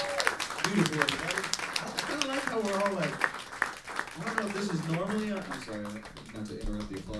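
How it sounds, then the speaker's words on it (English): Audience applause follows a song at an acoustic songwriters' song swap, clapping running steadily under a performer's close, clear talking throughout. "not to interrupt the applause, thank you very much"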